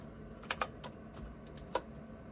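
A handful of computer keyboard key presses with shift-click during a Pokémon game, sounding as isolated sharp clicks: two close together, a softer one, then a single louder tap after a pause, fairly close and alone.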